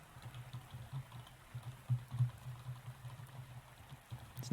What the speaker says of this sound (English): What sound is that? That's my keyboard.